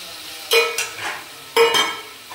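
Small chopped liver pieces stirred gently in a frying pan, two scraping strokes of a spoon against the pan over a continuous soft sizzle.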